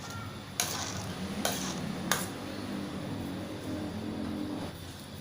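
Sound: stirring pot of Thai turmeric mackerel soup

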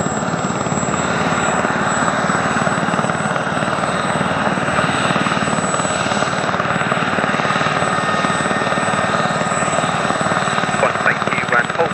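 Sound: Gazelle XZ934 helicopter starting up

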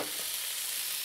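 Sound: stirring shrimp frying in a pan

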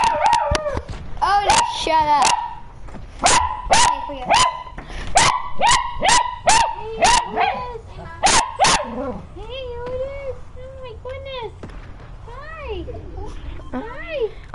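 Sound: dog barking and howling

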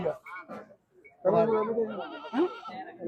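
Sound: goat bleating

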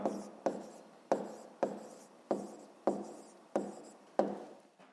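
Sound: writing with a pen on paper

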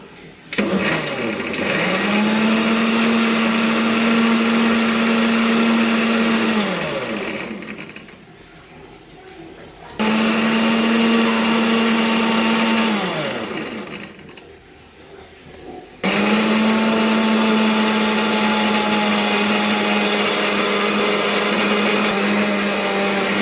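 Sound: mixer grinder blending curd with water for ghee

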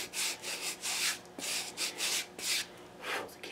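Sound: cleaning 120 grit sandpaper with a crepe block

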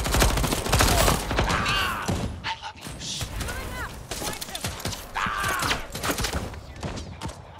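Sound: gunfire from the video game Deathloop

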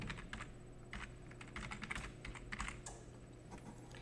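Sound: typing on a computer keyboard

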